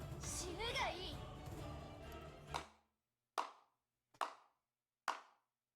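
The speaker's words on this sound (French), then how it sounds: "Des applaudissements interrompirent soudainement la Archer avant qu'elle ne projette sa lance" Clapping in the video game Honkai Impact 3rd: a few slow, sharp, isolated handclaps ring out one after another against silence, after a stretch of game sound and voices.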